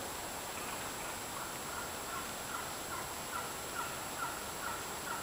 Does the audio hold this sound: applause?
no